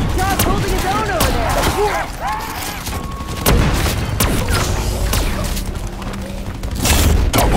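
Rapid, loud gunfire from a zombie-shooting video game on a zombies map, with bursts of shots and booms mixed with the warbling cries of zombies, and a voice talking in the middle of the action.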